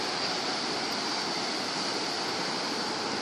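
Sea waves wash onto the beach at Port Barcarès in a steady, broadband rush of surf that holds at an even, fairly loud level throughout, with no voices over it.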